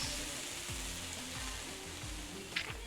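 Onions and chilies sizzle in a pan in the cooking game Venba, a faint, steady hiss under soft background music, with a brief brighter crackle near the end.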